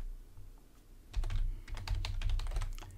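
Fast, close typing on a computer keyboard, with a quiet pause and then a steady burst of clicky keystrokes over a faint low hum.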